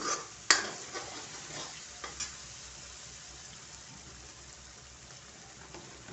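Onion-garlic masala for Kolhapuri misal stir-fried in oil, a faint low sizzle under occasional sharp utensil clanks and scrapes, one loud knock near the start.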